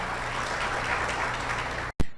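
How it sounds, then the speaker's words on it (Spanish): A congregation at a church service gives a strong, steady round of applause for the Lord. The clapping fills the room evenly, then cuts off abruptly near the end, followed by a brief thump. "Démosle un fuerte aplauso al Señor"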